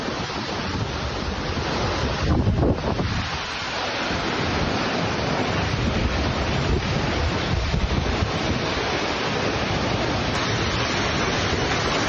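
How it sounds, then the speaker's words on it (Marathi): The Kelvali waterfall, flowing again during the monsoon, gives a continuous loud rushing roar of falling water that holds steady from start to finish, with wind buffeting the microphone and no voices. "निसर्गरम्य वातावरणात केळवली धबधबा आता प्रवाहित झालाय"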